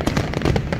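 Fireworks burst in quick succession during the UAE's long New Year fireworks display, a dense, loud crackle of rapid pops and bangs.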